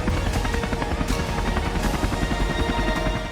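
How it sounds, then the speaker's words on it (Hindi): A military helicopter flies close and loud, its rotor thumping in a steady, fast chop over a continuous engine whine, with no voices. "हेलीकॉप्टर उड़ान भर रहे हैं"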